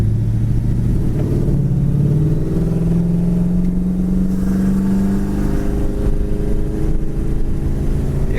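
A 1971 Dodge Charger V8 with a four-barrel carburetor revs steadily, its engine pitch climbing slowly and holding in a loud, continuous rumbling drone, close to the listener and with no talking.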